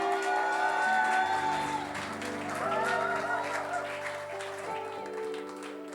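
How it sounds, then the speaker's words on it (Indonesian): Congregation applauding at a church service in Sydney, moderate clapping running under organ-like keyboard chords and a speaking voice. "Boleh kasih tepuk tangan buat your beloved lead pastor, Pastor David, Pastor Siani."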